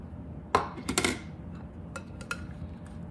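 Chopped tomatoes, peppers and cilantro being mixed in a bowl for Kenyan kachumbari, with a few sharp clinks and scrapes of a utensil against the bowl standing out clearly over a quiet kitchen background.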